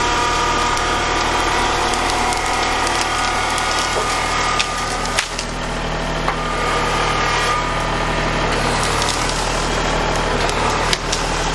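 A leaning tree is pushed over by a tractor, its wood creaking and splintering under a loud, constant engine drone, with a few sharper cracks breaking through.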